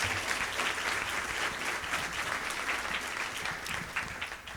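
Audience applause at a community shelter awards breakfast: sustained, dense clapping from a roomful of people, fairly steady and tapering slightly at the end.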